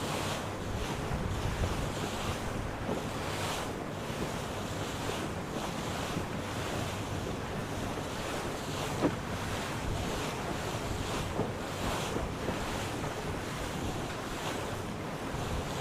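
Wind gusting over the sea around racing sailboats, a steady broadband rush with water wash and microphone buffeting, continuous throughout with no voices.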